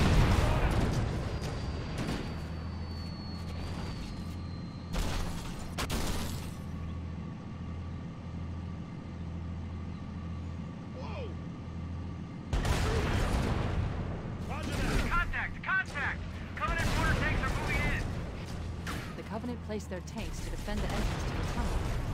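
Bursts of loud, booming gunfire from Halo: Combat Evolved come in heavy volleys, with quieter stretches of a low game hum between them, and a voice talks over parts of the action.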